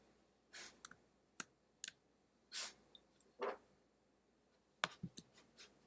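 Computer mouse clicks while Shift is held: a series of sharp, quiet, close clicks spaced irregularly, some single and some in quick pairs, with soft handling rustle between them and no talking.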